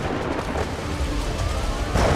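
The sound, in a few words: tropical thunderstorm thunder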